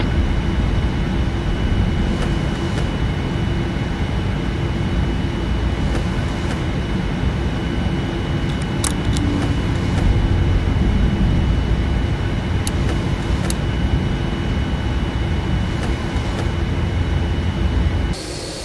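An Air France airliner taking off in the Prepar3D flight simulator game: a steady, loud engine roar that holds for the whole stretch, with a few faint clicks over it.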